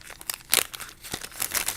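A hand rummages in a plastic bag, giving close, fairly quiet crinkles and rustles in irregular bursts with one sharper crackle midway.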